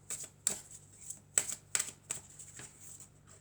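Tarot cards are handled and drawn, making a few soft, close taps and slides spaced irregularly against a faint background hum.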